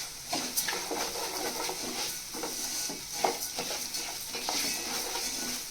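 Seeds crackle and sizzle in hot oil while being stirred in a pan, with faint scraping clicks, a steady close frying hiss throughout; the seeds are coriander and cumin, for a Nellore-style spice powder.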